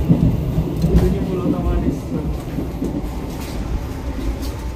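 A moving passenger train rumbles loudly in an economy-class carriage, with a continuous low rolling roar and faint rail clatter, no talk.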